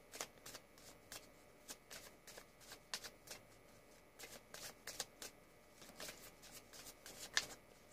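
Tarot cards are shuffled and drawn in a quiet room, making a close, soft flurry of riffling slaps and papery flicks that repeat irregularly across the whole stretch.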